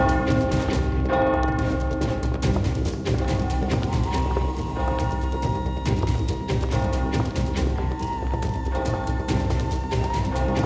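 Bells ring continuously and loudly, with clanging strikes layered over a steady metallic drone throughout.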